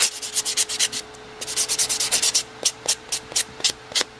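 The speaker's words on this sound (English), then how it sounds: "Now I'm going to take a buffing stone to it real quick just to get some of the bigger lines out." Buffing stone rubbed briskly over an acrylic nail, giving a steady run of short, close, rasping strokes in quick rhythmic bursts that slow and space out toward the end, with no voice.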